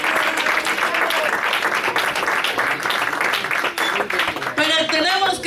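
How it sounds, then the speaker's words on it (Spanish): A church congregation applauds during a Christian service, a sustained wash of clapping that continues throughout, with voices rising through it and a brief higher cheer or vocal near the end. "Aplauda a Jesús que está aquí."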